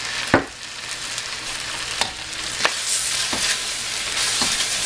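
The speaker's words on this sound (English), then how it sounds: "now it's the time to put my soy sauce. I use mushroom soy sauce." Cauliflower pieces sizzle steadily in a hot pan for gobi Manchurian as mushroom soy sauce goes in, a dense crackling hiss broken by several sharp knocks and scrapes of a spoon stirring against the pan.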